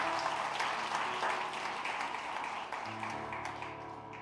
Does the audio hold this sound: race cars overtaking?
no